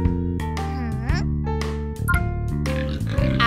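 A cartoonish pig grunts and oinks in a children's farm animal song, with the repeated oinks sung over bright music and a voice imitating the pig.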